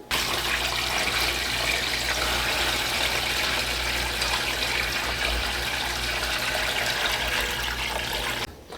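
Water gushes steadily into a new 6-gallon Fluval betta aquarium, a close, continuous rushing pour that holds at the same level for several seconds and then stops abruptly.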